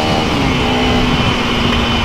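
Steady motorcycle engine drone while riding on a road, a continuous loud hum with a faint rising whine and no breaks, no voices.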